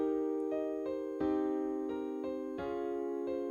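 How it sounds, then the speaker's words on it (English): Acoustic piano and Rhodes electric piano play sustained chords together, struck in a steady rhythm of changes, soft and clean with no voices. "So the piano and the Rhodes together sound like this."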